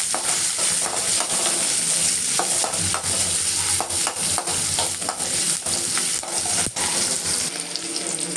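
Curry leaves and onions sautéing in hot oil for a fish curry, a steady loud sizzle with frequent stirring scrapes and clinks throughout, no voices.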